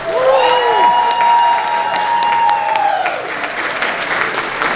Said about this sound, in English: All right, everybody give them a round of applause.